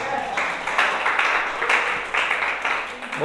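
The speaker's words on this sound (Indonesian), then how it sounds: "Tepuk tangan untuk Tuhan Yesus." A church congregation claps together in a broad, continuous wash of applause that swells in waves over a few seconds.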